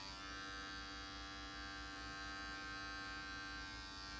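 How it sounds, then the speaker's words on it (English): An adjustable blade electric hair clipper runs with a steady, close buzzing drone, unbroken throughout and without any voices. "The advantage of the adjustable blade clipper is that you can get a lot of different lengths out of it."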